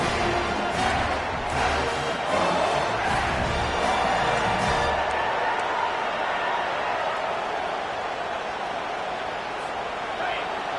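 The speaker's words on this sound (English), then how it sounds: "This crowd busting the decibel meter and trying to will a 4th down stop." A roaring stadium crowd at a college football game in NCAA 25 during a 4th-down defensive stand, a loud sustained wall of cheering and babble that stays steady and dense throughout.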